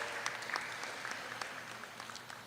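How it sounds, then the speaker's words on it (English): Audience at a grade 3 academic bowl event applauding the tabulator, a steady, moderately quiet patter of many hands clapping in a hall, fading slightly toward the end. "Round of applause for Marissa."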